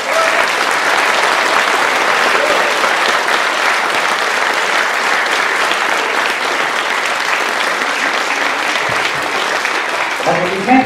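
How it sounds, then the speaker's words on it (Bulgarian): Sustained, dense audience applause fills a concert hall for the soloists of the Balgarche kindergarten at its 75th anniversary gala concert, loud and steady throughout with a few voices faintly audible beneath it. "Аплодисменти за солистите на детска градина Българче."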